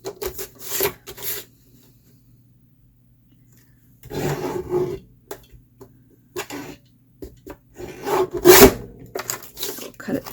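A paper trimmer slices through craft paper on a desk in a few short rasping strokes, near and moderately loud, separated by quiet pauses.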